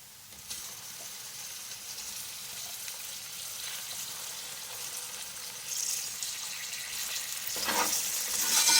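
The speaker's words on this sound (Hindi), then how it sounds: "चिकन डाल के भूनेंगे इसको और इसका कलर वाइट हो जाए, इतना भूनना है।" Chicken pieces, large broast-style cuts, frying over medium heat in a pot for Afghani chicken pulao, a steady soft sizzle throughout that grows louder and brighter toward the end, with no voices.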